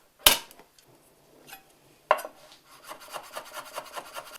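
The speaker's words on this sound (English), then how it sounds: "And then we're going to peel and finely slice our garlic." Garlic being peeled and finely sliced with a knife on a chopping board, two sharp knocks followed by scraping and a quick run of small rhythmic cutting taps, close and quiet.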